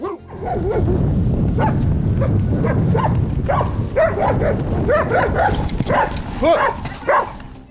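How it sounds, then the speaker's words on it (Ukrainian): Several dogs bark and yip repeatedly beside a bike ride through bushy outskirts near Kyiv, a busy overlapping chorus of close, loud barks running nearly continuously, with people talking among them. "Чого вони гавкали?"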